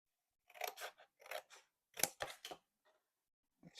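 Scissors cut folded paper for a triangular sketchbook, several quick crisp snips in short clusters, close and clear with quiet gaps between.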